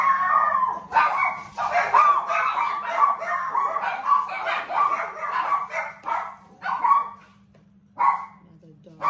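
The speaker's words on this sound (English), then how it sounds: "another dog." Dogs bark and howl repeatedly over about nine seconds, fairly close and loud in irregular bursts, while a person talks over them and a low steady hum runs underneath.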